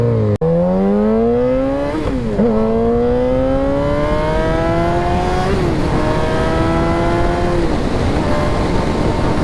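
Kawasaki Ninja 1000 motorcycle being ridden, engine revving up through gears with rising whine, brief dips at each shift, loud and close throughout.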